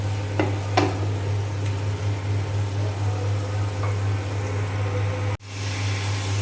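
Onion fried with spices and a tomato being sautéed in a pan, a steady sizzle running underneath with a few sharp scraping stirs near the start and one abrupt break near the end.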